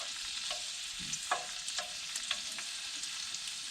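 Butter sautéing in a skillet gives a quiet, steady sizzle with occasional soft scraping and tapping from stirring, all faint and close, without any voices.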